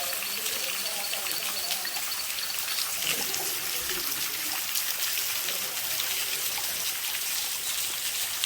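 Water pouring at Edith Falls, a waterfall in Chaguaramas, heard as a steady hissing rush of falling and splashing water, fairly close, with faint talk mixed in.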